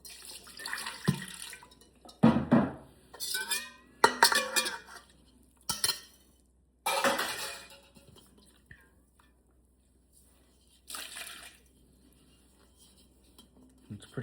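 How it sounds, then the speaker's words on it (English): Water splashes and clatters into a container holding residue from a raw cat food mix, with several irregular bursts of sloshing and clinking at close range, alone without talk. "So we're gonna splash some water in."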